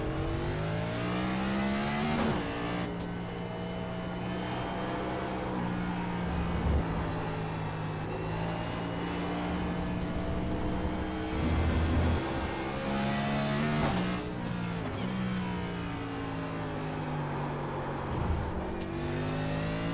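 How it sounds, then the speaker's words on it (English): NASCAR Next Gen (Gen 7) race cars roar steadily through the Circuit of the Americas in the iRacing sim, a continuous engine drone with rising and falling revs and a few louder surges, no voices over it. "these cars, the next generation cars on NASCAR, also Generation 7 cars, they bounce around a lot in nature"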